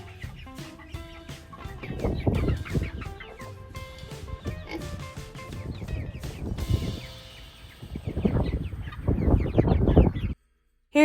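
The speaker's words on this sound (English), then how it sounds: "Here is the first batch of meat chickens for 2023." A flock of Cornish Cross meat chickens clucks and chatters close by, busy overlapping calls rising and falling, with some grunting noises mixed in.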